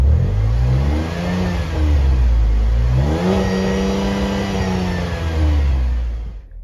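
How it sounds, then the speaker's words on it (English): A 2021 Chevrolet Traverse engine is revved while parked, its exhaust rising and falling in two loud, close swells toward a soft limiter before settling back to idle, with no talking. "Here's the exhaust note"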